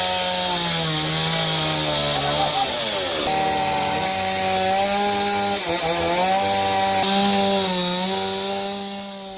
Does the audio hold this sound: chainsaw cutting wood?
yes